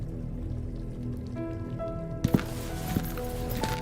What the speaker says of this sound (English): I'm hearing running water here, guys